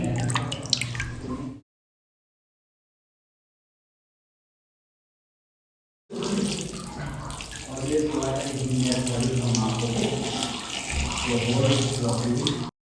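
Triveni water is poured over a Shiva linga during temple abhishek at Narsobachi Wadi, a splashing, running stream that cuts off briefly, then resumes and flows steadily, with faint voices in the background.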